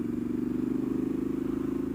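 A 2017 Triumph Street Scrambler engine braking on a test ride, a steady low rhythmic engine burble throughout, close and fairly loud.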